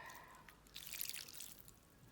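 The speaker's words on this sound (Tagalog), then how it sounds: "Ilalagay na natin yung suka at saka sugar mixture." A vinegar and sugar mixture for atchara is poured in a faint, close trickle. It swells into a brief splashing pour partway through, then tapers off, with no voices.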